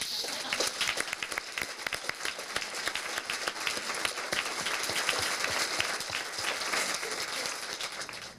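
An audience at a university campus event breaks into sustained applause, dense overlapping clapping that fills the room steadily for several seconds before beginning to taper at the end.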